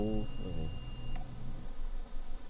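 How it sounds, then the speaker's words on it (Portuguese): A lab analysis instrument gives a single short electronic beep, with a steady thin tone and a low room hum nearby. Nobody speaks. "esse bipzinho aí da final da análise"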